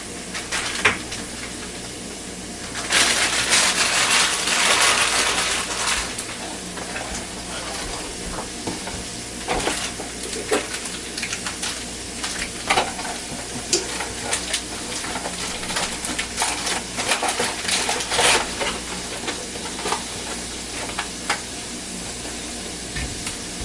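Stewed apples with raisins being stirred in a pot: a steady bubbling sizzle with scraping and clattering spoon strokes over it, close and fairly loud, with no talking.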